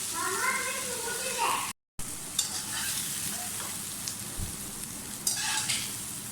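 Vegetables frying in a pan for chicken jalfrezi give off a steady, close sizzle with stirring scrapes and small pops, with a brief dropout partway through and a voice faintly present.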